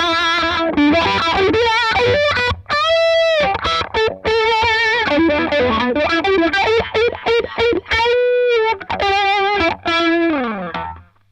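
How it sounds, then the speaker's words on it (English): Electric guitar played through a Cry Baby Mini Wah pedal into a cranked, driven amp, giving a gritty, slightly scratchy distorted tone; sustained notes and chords ring out loud and close, with sweeping wah tone shifts and brief gaps between phrases. "if I just crank the amp a little bit harder, it does get a bit scratchy when you go onto a driven sound"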